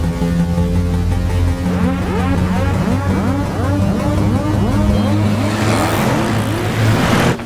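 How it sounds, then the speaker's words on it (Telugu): A Scorpio SUV speeds off with tires screeching, a loud revving engine roar overlaid with repeated sweeping squeals that build and grow harsher near the end. "స్కార్పియో హాస్పిటల్ లోపలికి వెళ్ళకుండా స్ట్రైట్ గా వెళ్తుంది"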